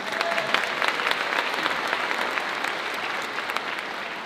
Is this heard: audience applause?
yes